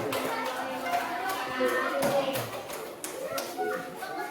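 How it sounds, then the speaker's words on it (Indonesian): A group claps on cue at a gathering, with scattered, uneven hand claps and taps mixed under nearby voices talking throughout. "Tepuk tangan."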